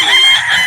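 A rooster crows at a chicken market in Calauan, Laguna, where gamefowl such as a Golden Boy bloodline bird are sold; one drawn-out, loud crow fills the short moment with no talk over it.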